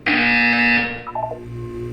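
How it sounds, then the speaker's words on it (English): A harsh electronic buzzer from the game Portal 2 blares loudly and steadily for about a second, then cuts off into a few short stuttering tones over a low hum. "You will hear a buzzer."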